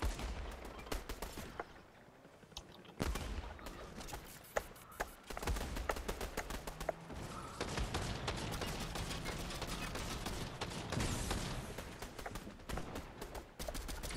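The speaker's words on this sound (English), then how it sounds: "That's like a lot of shots going on" Many gunshots in Fortnite, rapid crackling volleys of gunfire that go on almost without pause, with sharp individual shots standing out over a dense, busy background of more distant fire.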